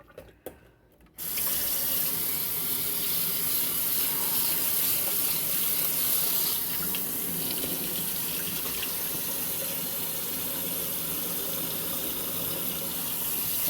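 Tap water gushes steadily into a pot of red pork stew after a brief quiet start, a loud, continuous broadband rush that holds at an even level with no voices.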